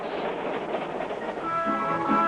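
A Nickel Plate Road high-speed mainline freight train rolls along with a steady, loud rumble and wheel clatter, and a faint tonal hum rises near the end.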